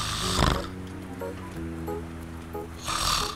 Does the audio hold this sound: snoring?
yes